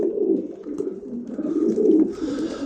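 Soft, continuous cooing from racing pigeons of Janssen lineage close by, low throaty murmurs rolling on without pause.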